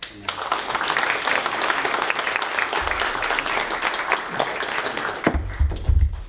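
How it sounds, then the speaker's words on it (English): A crowd at a school board work session claps steadily in sustained applause, loud and continuous, with voices mixed in beneath the clapping. "I think it deserves a round of applause"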